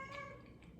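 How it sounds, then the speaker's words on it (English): A newly adopted stray cat gives one short, high meow indoors, faint and brief over quiet room noise. "That noisy thing is a new cat."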